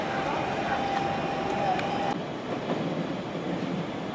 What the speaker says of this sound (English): Apparently another train is coming through,